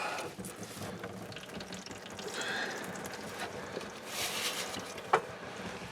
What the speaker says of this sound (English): there's lots of oil still in there. I'm going to let it drain from that side.